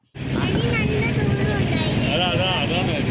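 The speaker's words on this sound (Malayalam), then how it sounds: "ബോട്ടിലിരുന്ന് ഞങ്ങളുടെ ബോട്ട് യാത്ര തുടങ്ങാൻ പോവാണ്" A boat's motor runs loud and steady as a ride begins on Dal Lake in Srinagar, Kashmir, with wind buffeting the microphone and people talking over the engine drone.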